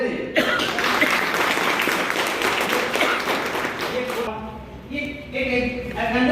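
A seated audience bursts into dense, sustained applause that fades out after about four seconds, followed by a few scattered claps and murmurs.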